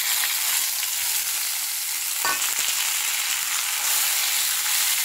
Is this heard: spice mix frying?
yes